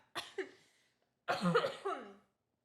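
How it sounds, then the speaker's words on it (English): Two bursts of coughing close to the listener: a short double cough, a pause, then a longer, harsher fit of several coughs. "Let me cough it out."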